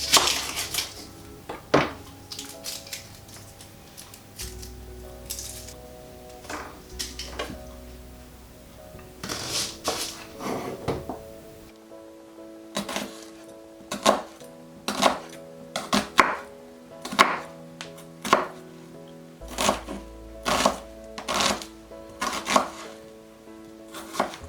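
A knife peeling and dicing an onion on a board: sharp, close, rhythmic chopping taps in quick runs, with occasional softer handling noises between strokes and no speech.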